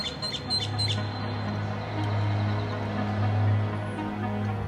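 Forest ambience from a video game: birds squawk and chirp over a steady airy bed of wind in the trees, with a few brighter calls early on and no talking.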